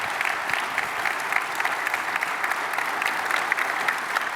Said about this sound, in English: So I'd like to give the three here a round of applause for a great conversation.